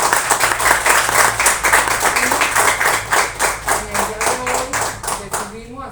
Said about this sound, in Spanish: yo les pido a todos los compañeros un aplauso para Aristóbulo